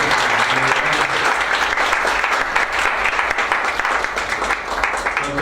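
An audience at a public talk on creative industries policy applauds warmly, a thick continuous wash of clapping from many hands that holds steady and tapers slightly toward the end.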